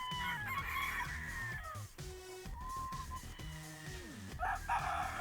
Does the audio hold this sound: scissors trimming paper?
no